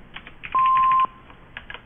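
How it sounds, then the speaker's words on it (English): A single steady electronic answering-machine beep rings out for about half a second. Faint clicks and tapping come before and after it. "Please leave your name and phone number after the beep."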